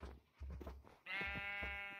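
A sheep in the Minecraft video game bleats: a few low game sounds come first, then one loud, wavering, sustained baa carries through the second half, near and unaccompanied by speech.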